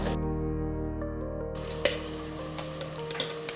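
Ground masala paste for aloo chops frying in a little oil, a steady soft sizzle with a few faint clicks of stirring, heard alone with no talk.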